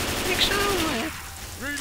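Rapid gunfire from the zombie shooter video game Left 4 Dead 2, steady bursts filling the first second before fading into quieter game sounds with a brief voice-like tone near the end.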